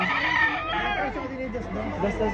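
A rooster crows close by at a chicken market in Padre Garcia, Batangas, its harsh call stretching over a couple of seconds while people talk over it.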